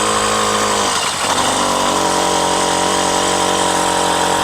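A Bikeberry 100cc V2 motorized bike engine drones close and loud with a steady, buzzing, chainsaw-like tone as it labors under a heavy load with a small sprocket and large tires.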